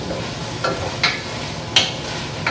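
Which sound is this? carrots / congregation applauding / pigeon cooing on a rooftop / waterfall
carrots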